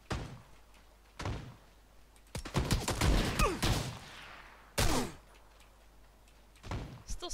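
Gunshots crack in a video game, sharp sporadic reports with a brief flurry of several rapid shots in the middle, separated by quiet gaps.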